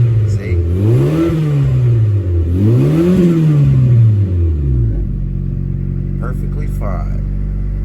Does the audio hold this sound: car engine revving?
yes